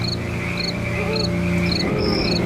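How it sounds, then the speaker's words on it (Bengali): Night crickets chirping in a cartoon countryside scene, a continuous buzzing trill with short repeated high chirps over a low drone, steady and close, with no one talking. "শুধু ঝিঝি পোকার শব্দ।"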